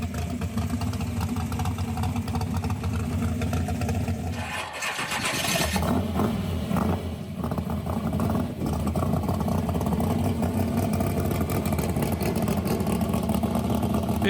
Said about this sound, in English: race car noises.